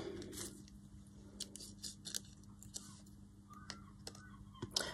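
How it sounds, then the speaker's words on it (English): Small craft scissors trim around tissue paper set in UV resin, giving soft, close snips and clicks in short irregular bursts over a low steady hum. "I sort of angle my scissors down a little bit."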